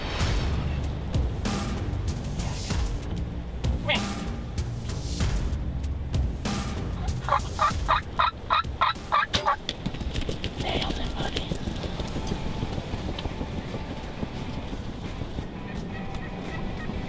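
A wild turkey gobbles in a quick, rattling burst partway through, set against strong wind buffeting an open hunting field.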